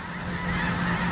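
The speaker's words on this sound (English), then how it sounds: "We're out spotting geese now, trying to find out where they're going to land." Geese honking in flight over North Dakota hunting country, a steady overlapping chorus of nasal honks from a flock, fairly close and loud with no talking.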